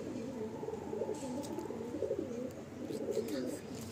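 Kalanka pigeons held in the hand coo in low, rolling, repeated phrases, close to the mic, over a faint background hiss.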